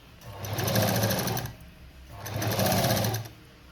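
A sewing machine stitches patchwork cut from a saree border in two close, loud runs of rapid, even mechanical clatter, with a short pause between them.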